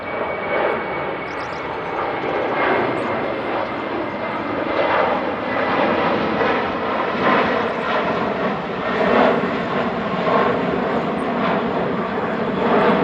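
A large jet airliner roars steadily on takeoff at DFW airport, bound for Honolulu, a broad, sustained rumble and whine heard from a distance with no voices.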